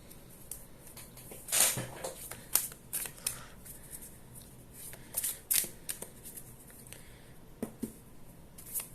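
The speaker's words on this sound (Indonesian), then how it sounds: "Aku kocok dulu kartunya," Tarot cards being shuffled by hand, with several quick riffling bursts and softer card slides in between, close and fairly quiet.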